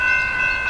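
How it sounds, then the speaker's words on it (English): An approaching train sounds a steady, sustained horn-like tone over a low rumble in a brief burst heard from a distance. "Oh, sounds like a train's coming."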